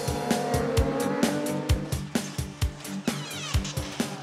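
A racing motorcycle on track during qualifying for the Bol d'Or 24-hour endurance race, its engine revving in rapid repeated bursts with sharp gear-change cuts, loud and close, with no talk over it.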